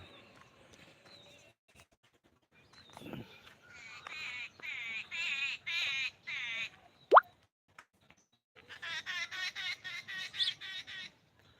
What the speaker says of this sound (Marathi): सकाळी सकाळी पक्ष्यांचा आवाज कानाला खूप छान वाटतो गोड वाटतो